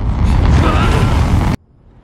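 Film explosion of a missile destroying a village, a loud, dense, rumbling blast that roars continuously for about a second and a half and then cuts off abruptly into near silence.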